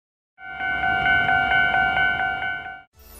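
A toy Plarail and Tomica railway crossing bell sounds from a crossing set, a steady electronic ding-ding tone repeating about every quarter second for over two seconds before stopping abruptly.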